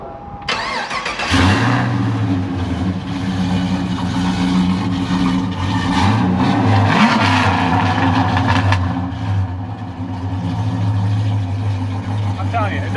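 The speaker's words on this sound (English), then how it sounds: "whatever this exhaust system is, it sounds awesome" A Pontiac Tempest restomod with an LS engine burbles through its exhaust as it is revved, a deep steady rumble rising and falling over several seconds, loud and close, with people talking over it.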